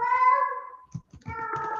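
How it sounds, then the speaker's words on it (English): A pet cat meows in a long, wavering cry that trails off, followed by a shorter second call, close and fairly loud with a brief soft noise between the cries. "my cat is crying now."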